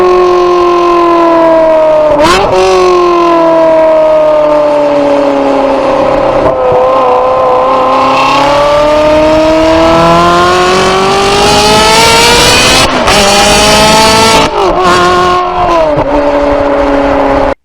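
A Ferrari F430 on its standard exhaust revs repeatedly, loud and close, its engine note climbing and falling in several sweeping surges, with no voices present.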